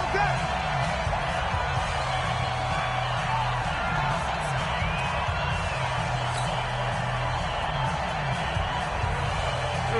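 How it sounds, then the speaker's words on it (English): Stadium crowd noise in a PlayStation 4 football video game builds before a big third down, a dense continuous roar of cheering held steady under a commentator's voice throughout. "the crowd getting into it as we come up on a big third down"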